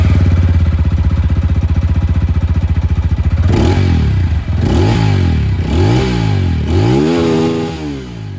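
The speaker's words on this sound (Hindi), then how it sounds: "तो जो एग्जॉस्ट साउंड है वो भी आप लोग सुन लीजिए।" A 2025 TVS Apache 200 4V motorcycle exhaust, first a steady close idle, then four sharp revs that rise and fall in quick succession, loud and alone.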